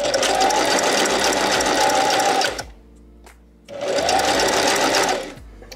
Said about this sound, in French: Pour surfiler, vous vous mettez sur le point zigzag de votre machine à coudre.